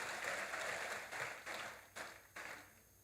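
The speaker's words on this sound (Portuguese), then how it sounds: "salva de palmas para vocês" Faint, distant applause from an audience at a church lecture, a thin round of clapping that breaks into a few separate rhythmic bursts and fades toward the end.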